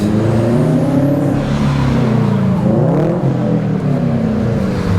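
Loud, continuous roar of cars passing close by on a side street off Main Street in Breckenridge, Colorado, engines revving and humming steadily throughout with no voices.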